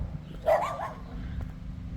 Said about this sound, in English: I knew the dogs were here, but it still made me jump.